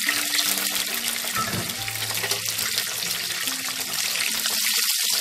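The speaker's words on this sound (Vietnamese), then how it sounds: "Bây giờ mình sẽ chiên tiếp." Potato pieces fry in a pan of hot oil, a loud continuous sizzle with bubbling and crackling that holds steady, while faint tonal clinks and kitchen sounds sit underneath.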